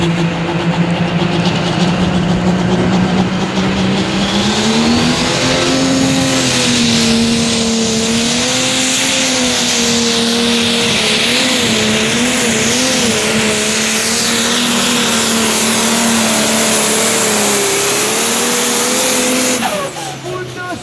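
A Belgian Fendt 930 Pro Stock diesel pulling tractor revs hard and loud in an arena, its engine note climbing and holding at a high, sustained roar for nearly twenty seconds.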